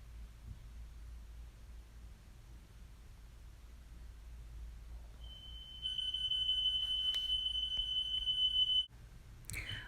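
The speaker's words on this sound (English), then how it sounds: "My apologies for the alarm." A smoke alarm in a room where locs are being colored sounds a steady high-pitched beep for several seconds over a quiet hiss of background noise, then cuts off abruptly.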